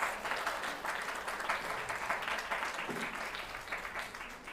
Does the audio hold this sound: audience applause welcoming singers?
yes